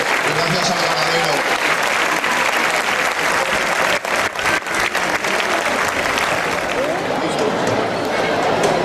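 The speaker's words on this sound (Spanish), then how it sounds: "Un fuerte aplauso para todos" A crowd in a bullring applauds after a capea at the Caparroso town fiestas, loud, sustained clapping filling the whole stretch, with shouts and voices mixed in.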